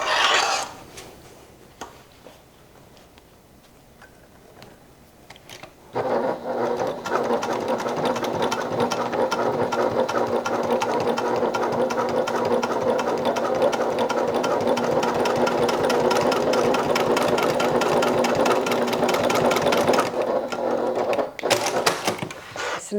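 Sewing machine running steadily for about fourteen seconds while stitching down the center line of a Willa crossbody bag, preceded by quiet handling sounds and ending with a brief stop and rustle.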